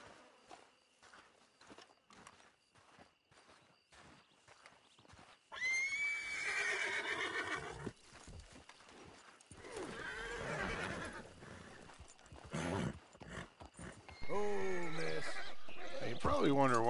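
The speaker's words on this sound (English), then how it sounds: "Oh, there's their horses." Horses neighing in the video game Red Dead Redemption 2, exploring New Austin: a few quiet hoofbeats first, then loud, drawn-out whinnies rising and falling across the second half, with speech faintly present.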